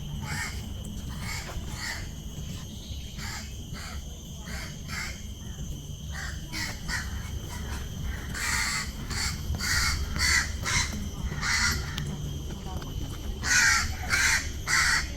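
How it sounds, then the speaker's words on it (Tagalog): Crows caw repeatedly in a wetland reserve, harsh calls in irregular bursts that grow louder and more frequent, over a steady hum of insects and ambient noise. "Habang ang iingay ng mga ibon."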